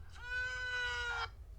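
A single loud shouted syllable, the famous "Sui" chant, used as a phone ringtone, rings out for about a second, bright and sustained, then cuts off over a low background hum.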